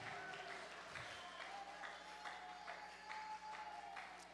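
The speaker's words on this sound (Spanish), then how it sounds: "Apláudele con toda tu fuerza, que es para Dios." A church congregation claps in a steady rhythm, roughly two claps per second. The clapping is faint and distant, over a sustained tone and a low hum.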